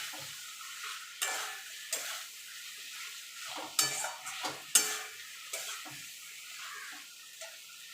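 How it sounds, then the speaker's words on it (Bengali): Pointed gourd sautéing with spice masala in an oiled pan, a soft steady sizzle broken by repeated stirring scrapes and clinks of a utensil against the pan, fairly close and moderately quiet, with no talking. "এবার দিয়ে দেবো পটলগুলো দিয়ে ভালো করে মশলার সঙ্গে কষিয়ে নেব"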